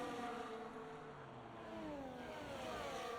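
A race car engine revs in a racing video game, with several engine tones sweeping up and down in pitch at a steady, fairly quiet level.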